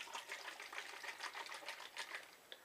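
A bottle of Van Yulay Elf Balls aftershave is shaken, giving a quiet, quick, rhythmic rattling and sloshing that runs continuously and faintly with no voices.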